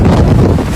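Strong wind gusts buffet the microphone during a sandstorm on Coney Island beach in New York, a loud, continuous low roar that swells and dips without a break.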